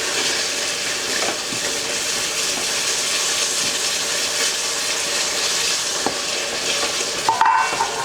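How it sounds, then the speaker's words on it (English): Stock being stirred in a pan with the spoon scraping the bottom, a continuous close sizzle with a steady rhythm of scraping strokes and a brief clatter near the end. "While I'm stirring it, I like to make sure it's scrape the bottom of the pan"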